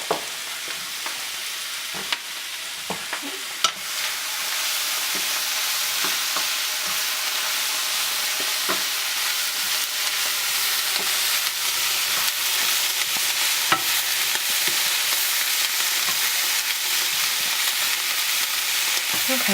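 Steak sandwich fillings fry in a pan with a steady, even sizzle that holds for the whole stretch, broken by a few sharp clicks and stirring sounds and no talking.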